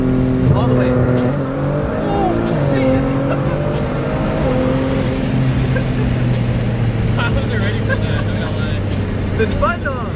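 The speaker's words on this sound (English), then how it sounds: "All right, slam the gas all the way." A car accelerates hard at full throttle in second gear from a 50 mph roll, its engine note climbing in steady harmonic sweeps with a brief shift partway through, loud and continuous from inside the cabin as people talk over it.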